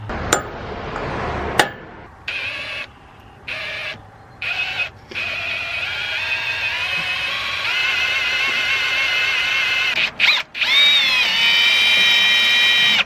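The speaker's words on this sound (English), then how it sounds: "We're going to punch our mark in the manifold and start drilling." A drill bites into a 24-valve Cummins exhaust manifold near the number 4 cylinder, a loud steady high whine broken by short pauses, then a sharp tap and renewed grinding, close and without talk.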